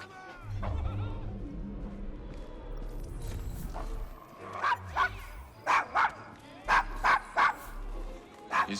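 A dog in Victorian London's Devil's Acre from Assassin's Creed Syndicate barks repeatedly at strangers, sharp close barks in quick bursts during the second half, preceded by game voices and ambient background.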